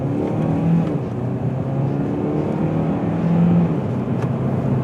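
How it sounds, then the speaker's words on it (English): A 2014 Hyundai Elantra GT in sport mode accelerating from inside the cabin, a steady, muted engine drone that rises gently in pitch, quiet and continuous with no voices. "We're gonna give it a little gas."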